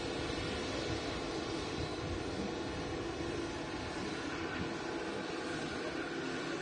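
A Boeing 787 Dreamliner at Manchester Airport makes a faint, steady jet roar that holds unchanged throughout, far off and heard alone.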